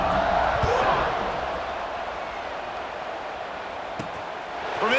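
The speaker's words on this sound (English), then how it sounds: "this crowd is buzzing after that last score" Stadium crowd noise from the EA Sports College Football 26 video game, a steady dense roar that swells slightly at the start and end, with no distinct voices standing out.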